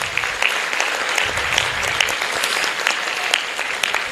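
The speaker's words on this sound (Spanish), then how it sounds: "Un aplauso, por favor." A conference audience applauds at a political talk, steady dense clapping throughout, fairly loud and close, with no voices standing out.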